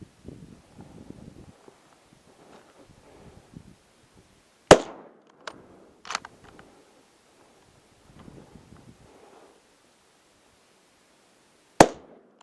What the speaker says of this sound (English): So I thought I'd take the opportunity and have a shot.